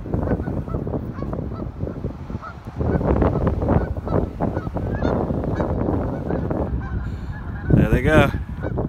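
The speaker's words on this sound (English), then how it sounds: "He's chasing the geese." A flock of geese being chased by an RC boat honks loudly and continuously, many overlapping calls close by, with a higher squeal rising near the end.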